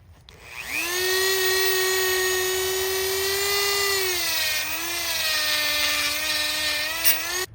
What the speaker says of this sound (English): I'm just going to switch bits here and use that small one into the axe eye right in this area